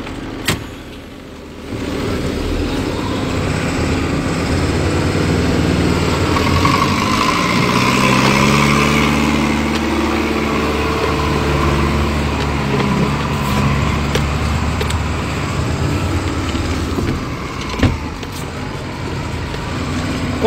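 Volkswagen 13-180 truck engine pulling away in first gear with the low-range reduction engaged and handbrake released, a steady loud diesel drone that rises in pitch as it accelerates, with a brief click near the end.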